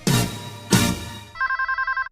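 A telephone ringing: two loud, sustained electronic ring bursts, followed by a quick series of short repeated ringtone beeps, close and clear with no talk.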